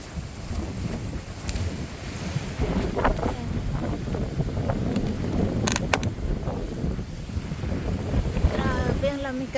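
Strong wind buffets a peach orchard in steady, loud gusts, roaring across the microphone throughout, with faint voices and brief rustling underneath.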